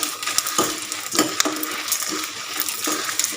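Mustard seeds frying in about half a tablespoon of hot oil, a steady crackling sizzle with scattered sharp pops and light stirring clinks of a spoon against the pan, close and continuous.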